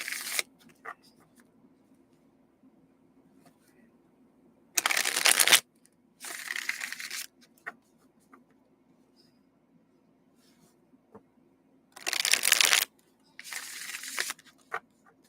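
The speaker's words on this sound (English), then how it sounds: "Let's get this deck shuffled." A tarot card deck is shuffled up close in four short, brisk bursts of riffling, separated by quiet pauses.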